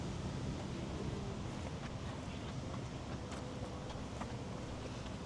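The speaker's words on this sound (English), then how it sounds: "It's really windy." Wind blows across an open residential community in Porter, Texas, making a steady, loud rumble that buffets the microphone throughout, with no talking.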